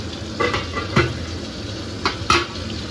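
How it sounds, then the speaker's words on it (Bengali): Pointed gourd (potol) pieces frying in a pan: a soft background sizzle broken by a few distinct clinks and scrapes of a spatula against the pan, close by. "আর এইখানে পটল ভাজা হচ্ছে।"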